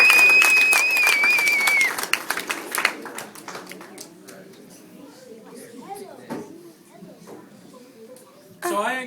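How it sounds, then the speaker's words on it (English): A crowd at a Boy Scout ceremony gives a short burst of applause that fades within a few seconds, followed by quieter room sounds and scattered voices. "A big round of applause for our scouts from 5 through"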